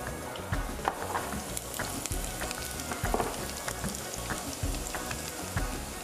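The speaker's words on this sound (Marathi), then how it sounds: "तेल गरम झालेलं आहे, तर यामध्ये लसूण" Garlic fries in hot oil in a pan, a soft steady sizzle broken by crackles and occasional stirring clatters, moderately quiet throughout with no voices.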